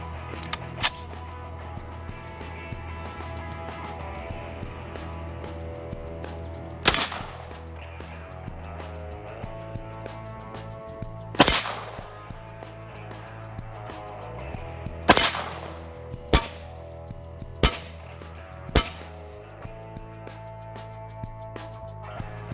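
An SKS rifle fires 7.62x39 full metal jacket rounds at a body armor plate: about seven sharp, loud shots at irregular intervals, several in quick succession near the end, over a steady mechanical hum.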